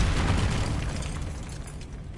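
Confringo blasting spell from Hogwarts Legacy goes off as a loud, close boom that rolls into a rumbling burst and decays over about two seconds, with no voices.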